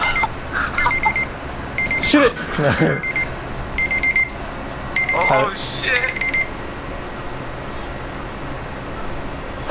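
Repeated electronic alarm beeps in Fortnite sound in short bursts across the clip, mixed with game noise while players shout over them.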